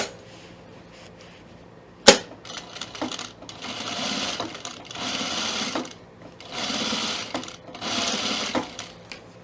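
A sewing machine topstitches around the curve of a zipper fly with a separate fly facing, running in several steady bursts separated by short pauses. A sharp click comes just before the stitching starts, and the machine sounds close and moderately loud.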